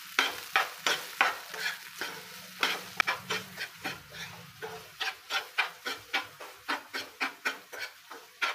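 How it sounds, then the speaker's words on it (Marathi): Cooked green chickpeas are stirred in a frying pan over hot tempering, with a rhythmic run of close, steady scraping strokes and a light sizzle underneath. "1 ते 2 मिनिटांसाठी आपण हे छान असं मिक्स करून घेणार आहोत।"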